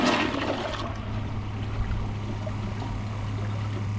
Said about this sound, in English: Now let's do a dry bowl test and see how it flushes. Here's a flush with a dry bowl.